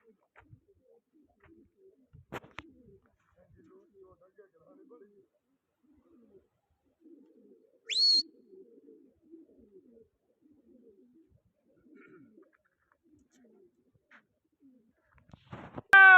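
Pigeons coo softly and intermittently in a quiet outdoor spot, faint and distant, with one brief louder call near the middle and a few scattered knocks and noises.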